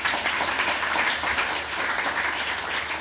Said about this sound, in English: He's a debut author, and that deserves a round of applause.